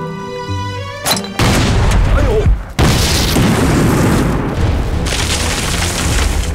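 An artillery shell bursts on an enemy headquarters in a war drama battle scene, a huge close boom followed by a sustained roaring rumble of blast and debris filling the rest of the moment.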